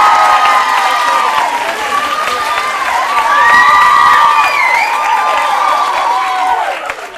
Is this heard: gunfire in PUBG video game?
no